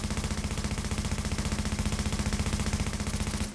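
Sustained rapid automatic weapon fire in The Division, a steady, evenly spaced stream of loud shots for several seconds before stopping abruptly.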